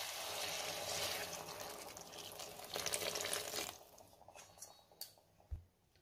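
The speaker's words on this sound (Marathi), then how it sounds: "आता आपण त्यामध्ये गरम पाणी घालूयात" Hot water poured into a pan of sautéed, marinated soya chunks gives a steady rushing hiss and splash with frying sizzle for several seconds, then trails off into a few faint clinks and taps.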